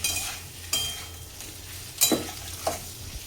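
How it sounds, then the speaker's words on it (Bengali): Fried prawns being stirred into a spice masala in a pan, a soft sizzle with a few distinct scrapes and clinks of the spoon against the pan. "মশলার সঙ্গে চিংড়ি মাছটাকে একটু হালকা করে নেড়ে নিতে হবে।"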